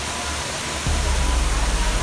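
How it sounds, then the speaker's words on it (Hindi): Water plunging from a high waterfall at Kedarnath on the yatra trek, a loud steady roar of falling water that swells partway through, with no talk. "कितना ऊंचा है, कितने ऊंचे से पानी गिर रहा है वो"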